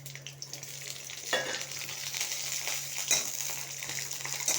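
Onion and garlic sizzle as they sauté in hot oil for a mint thokku, a steady frying hiss broken by a few louder scrapes of stirring, close up with no talking.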